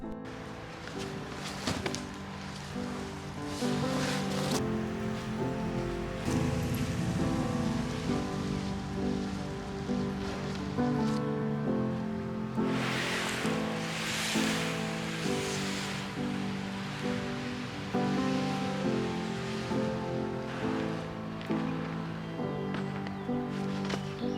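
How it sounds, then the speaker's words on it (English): Water runs down a newly built pondless stream in a garden, making a continuous close splashing and trickling rush, like steady rain, with no voices. "see if the water flows correctly down the stream"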